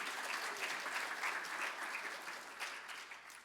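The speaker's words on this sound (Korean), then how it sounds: "이럴 땐 박수가 크게 나와야 되는데요." A church congregation applauds at an ordination service, a soft, distant wash of clapping that stays even and then slowly fades.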